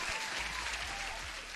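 Applause from an online live stream audience, steady and continuous throughout, sounding like a recorded crowd effect at moderate level with no voices over it.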